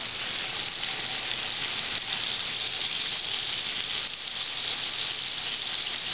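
Salt-and-peppered pork chops sear in a hot pan, giving off a loud, dense, unbroken sizzle that holds steady from start to finish with no talking.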